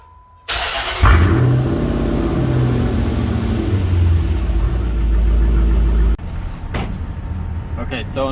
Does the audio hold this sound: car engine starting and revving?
yes